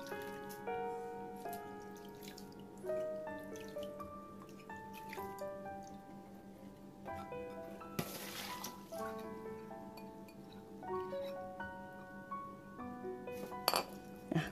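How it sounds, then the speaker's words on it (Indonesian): Water drains from washed grated potatoes as they are shaken in a container, giving soft drips and trickles with light metallic clinks and ringing taps throughout, fairly quiet and close. "kita goyang-goyang seperti ini supaya airnya keluar semua"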